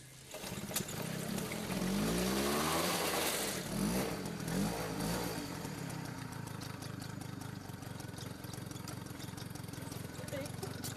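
A motorcycle engine starts with a rough rising rev, then settles into a steady mid-pitched idle running close by, with people's voices talking over the engine throughout.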